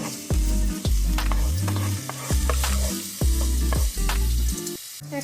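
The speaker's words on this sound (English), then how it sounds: "Now you want to add in your onion, and we're going to let that saute for 3 minutes." Chopped onion sizzles steadily in hot olive oil in a saucepan, with several distinct stirring scrapes in a regular rhythm breaking up the frying hiss.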